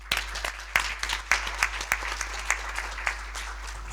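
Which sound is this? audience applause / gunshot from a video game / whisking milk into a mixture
audience applause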